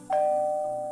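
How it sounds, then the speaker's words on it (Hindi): A doorbell rings at a home's front door, one electronic chime tone striking sharply and then ringing on steadily, clear and close with no voices over it. "दरवाजे पे किसी ने घंटी बजाई"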